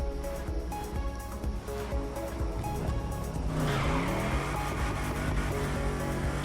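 A car drifts in the Motorfest racing video game, its tires squealing in a long, wavering screech over a loud, continuous engine roar that surges midway through.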